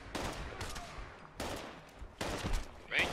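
Bursts of video game gunfire in Fallout 76, several loud volleys of rapid shots separated by short pauses, close and harsh, with no talk over them.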